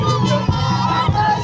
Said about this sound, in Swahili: ongeza vigelegele kwa ajili yao